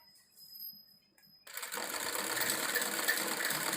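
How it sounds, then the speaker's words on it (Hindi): A sewing machine stitches a shaped design on a salwar hem, half an inch from the side, starting abruptly after a faint hum and then running in a steady, fairly loud whir. "सिलाई लगा रहे हैं"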